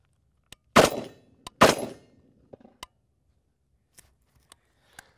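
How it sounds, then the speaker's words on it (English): Two loud, sharp gunshots from a firearm fired from behind cover or a barricade at a target, each with a short ringing decay, followed by a few small scattered clicks. "So I feel all right taking this shot."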